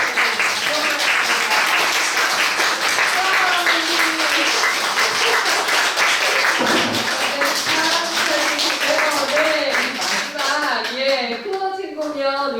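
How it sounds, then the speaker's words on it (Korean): Sustained applause from an indoor audience at a book concert talk, dense clapping running throughout at steady volume, with music and voices rising toward the end. "오늘도 좋은 강의와 토크로 함께 해주신 박사님의 큰 박수 부탁드립니다."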